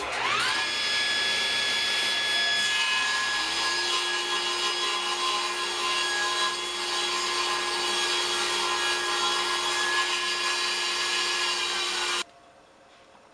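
Table saw blade cutting a wood board guided by a crosscut sled: a steady, loud whine of the spinning blade with a rising start and a sustained tone as the cut runs, ending abruptly near the finish. No talking.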